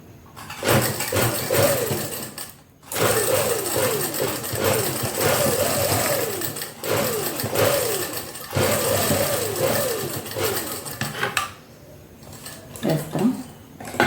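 A sewing machine stitches lace onto a garment sleeve in loud, close, rapid runs of mechanical chatter, starting and stopping in several bursts with short quiet gaps between them.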